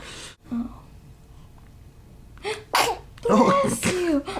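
A newborn baby sneezes a couple of times up close, tiny and sharp, with an adult's soft voice reacting around the sneezes.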